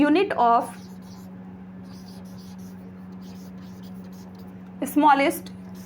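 Faint chalk or pen strokes on a board during a lesson, a soft scratchy patter under a steady electrical hum, set between short stretches of a man's speech at the start and end.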